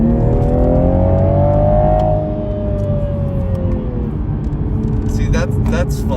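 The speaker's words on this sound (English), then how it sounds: "I'll just put it in sport one more time, just so you can hear the crackles and pops." A 2021 Toyota Supra 3.0 in sport mode revs loudly and then settles, with a cluster of sharp exhaust crackles and pops near the end, while a person talks over the engine.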